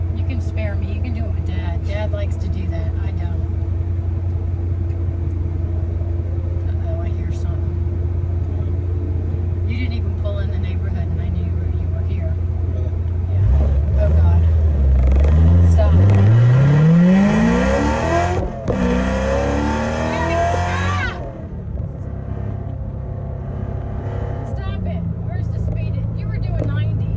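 A Chevrolet Corvette Z06 engine idles with a low rumble, then revs hard and accelerates with a rising roar, loud and close from inside the car, with people talking over it.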